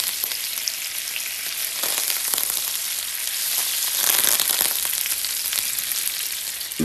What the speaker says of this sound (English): Get the butter in the pan.